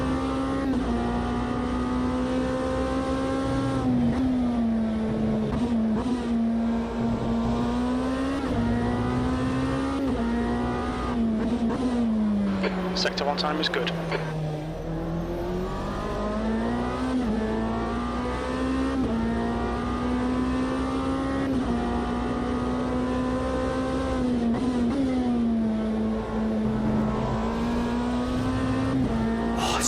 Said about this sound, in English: Let's just let people hear the Lamborghini.